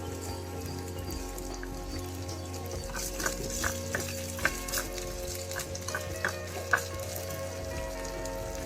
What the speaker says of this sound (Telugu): అల్లం ఎర్రగా వేయగాలి